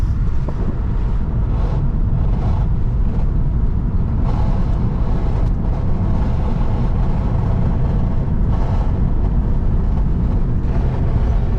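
From inside a moving 2008 Acura TL, a low engine drone builds and drops as it shifts through the gears, heavily buried under loud, constant road and wind roar.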